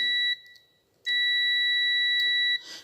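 Multimeter continuity buzzer testing a faulty switch from a Siemens TK76K572 coffee maker: a shrill steady electronic beep sounds briefly, stops, then returns for about a second and a half, with faint probe clicks and rustle around it.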